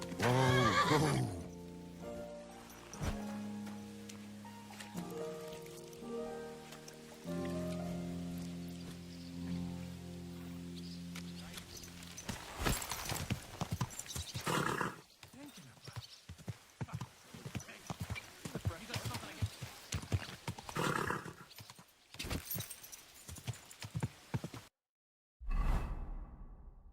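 Horse hooves clip-clop at a steady walk as the horse neighs and whinnies in Kingdom Come: Deliverance II, close and fairly loud, followed by whooshing movement sounds and brief silence near the end.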